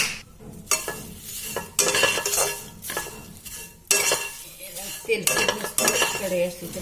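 Bay leaf and whole spices are dry-roasted in a pan: a metal spoon scrapes and clanks against the pan in bursts of several seconds, with a faint background sizzle and no voices.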